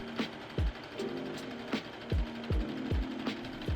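Sewing machine running a zigzag stitch on stretched elastic, quiet rhythmic mechanical clunks repeating about every half second over a steady motor hum, with no talking.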